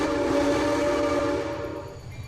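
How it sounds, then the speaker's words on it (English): A steam locomotive whistle in the Run8 V3 train simulator game sounds as a loud, sustained chord-like blast that fades out toward the end. "I did a really good job with making the whistle."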